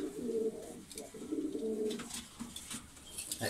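Pigeons at a breeding farm in Bangladesh coo close by, making repeated low throaty rolling calls in short phrases that overlap and end in a few faint rustles.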